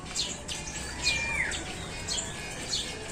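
Small cage bird in a flight aviary giving repeated short chirps and a brief descending call, faint and steady against a soft hiss, no talk.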